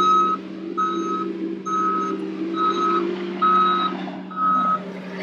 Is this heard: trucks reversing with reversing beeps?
yes